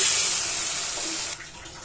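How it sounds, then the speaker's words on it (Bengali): Water pours into a cooking pot in a steady, splashing stream, then cuts off abruptly near the end, leaving a quieter trickle. "এখন পরিমাপ মতন পানি দিয়ে দিলাম"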